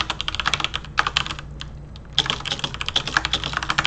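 Rapid typing on a computer keyboard, close and crisp, with bursts of quick key clicks, a short pause in the middle, then a steady run of keystrokes.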